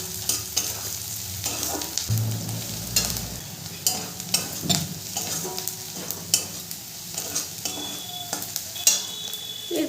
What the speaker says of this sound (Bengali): পেঁয়াজটা একটু ভাজা ভাজা হয়ে গেছে, এরপরে আমি দিয়ে দেবো কাশ্মীরি লঙ্কার গুঁড়ো।